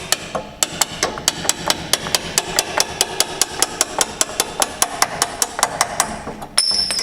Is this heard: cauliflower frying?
no